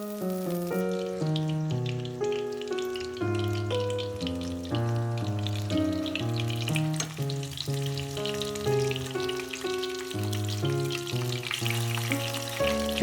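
Breaded pork cutlet (tonkatsu) fries in a pan, giving a steady crackling sizzle throughout, partly masked by louder melodic background music with sustained notes.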